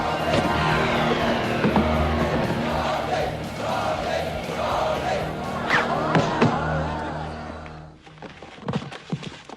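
Kumite tournament crowd from the film Bloodsport, a loud, dense roar of cheering spectators with thuds and shouts, cutting off abruptly near the end before scattered sounds.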